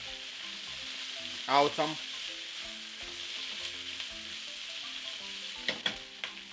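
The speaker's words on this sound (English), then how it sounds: "Give these vegetables a stir. We can clearly see that they're starting to caramelize." Caramelizing vegetables and carrots being stirred in a hot pan for a chickpea and quinoa stir fry, with a soft continuous sizzle and a couple of scraping stirs; a voice speaks briefly.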